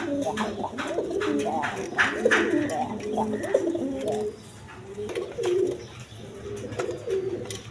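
Pigeons in a dealer's loft of local and foreign colored breeds, including a pair of males, coo in repeated rolling bursts close by, with a lull midway and short voices in the background.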